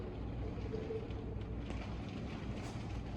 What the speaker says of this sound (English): we got some outflow wind